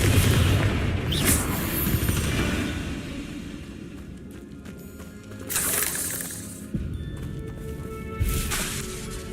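Confringo blasting spells in Hogwarts Legacy, several booming explosions with a rumbling tail spaced a few seconds apart amid continuous battle noise.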